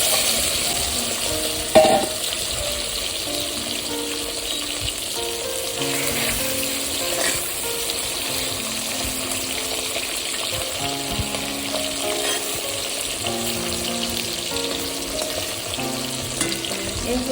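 Small tangra fish fry in hot oil and are turned in the pan, with a steady close crackling sizzle throughout and a few faint clinks and scrapes from the utensil.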